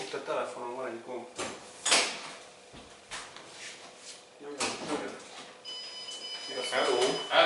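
A door opens in a video game with a few distinct mechanical clunks and sliding scrapes spread across the moment, amid quiet background sound and people talking.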